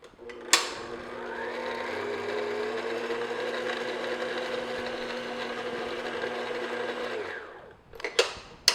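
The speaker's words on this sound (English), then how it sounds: "all I'm going to do is just mix these together" Flour, kosher salt and baking powder are mixed together for lemon cupcakes, probably by an electric mixer. A steady motorized whir runs for about seven seconds between a sharp click at the start and clatter near the end.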